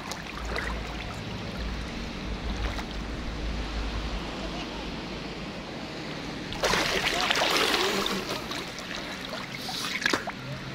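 Sea surf washing ashore at a beach in Catmon, a steady broadband wash that swells louder for a few seconds near the end, with low rumble underneath and no one talking.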